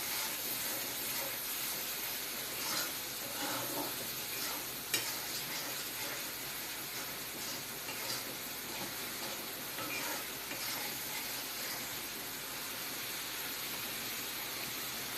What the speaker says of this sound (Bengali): এখন এগুলা দিয়ে অল্প লাড়াচাড়া করে নিচ্ছে